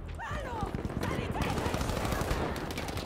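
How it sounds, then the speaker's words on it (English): Rapid gunfire pops in a Battlefield V firefight, a quick string of close, punchy shots over a continuous battle din, with voices mixed underneath. "Dude, the shotgun is so overpowered."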